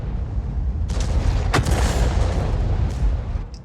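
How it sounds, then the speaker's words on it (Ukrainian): A dense, rumbling battle din in World of Tanks with a heavy T92 cannon boom near the middle, loud and close, amid continuous engine-like roar. "буду зараз в нього стріляти"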